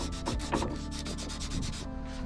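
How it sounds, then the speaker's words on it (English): Hand sanding of teak wood on a sailboat, with quick, rhythmic back-and-forth scraping strokes, close and fairly quiet, about a dozen passes. "I'm trying to get this stuff sanded, but it's fighting me"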